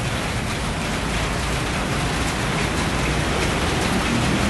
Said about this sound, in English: quite a bit of rain together.